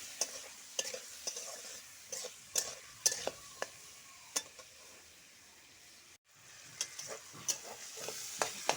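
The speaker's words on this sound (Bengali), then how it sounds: "আর হলুদ একসাথে দিয়ে দিব ভালো করে ভাজবো" Vegetables with turmeric and salt fry in a pan under a soft, constant sizzle, broken by sharp, irregular scrapes and knocks of stirring and a brief pause partway through.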